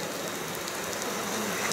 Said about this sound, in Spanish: no han tenido el gusto de tener una tarde radiante, pero sí nos ha cobijado la lluvia